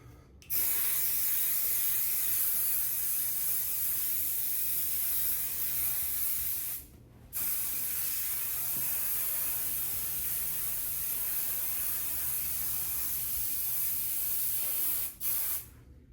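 Long continuous bursts of hairspray hissing up close, broken by two brief pauses, the second very short.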